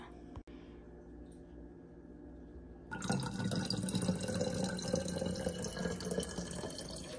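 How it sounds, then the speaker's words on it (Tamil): Water runs from a tap into a cup, a steady close splashing pour that starts after a few seconds of quiet and continues to the end. It is being measured out to make a homemade spray against scale insects. "ஸோ இந்த கப்பில் நான் 2 கப் தண்ணி ஊற்றிருக்கேன், 2 கப்ஸ் வாட்டர்."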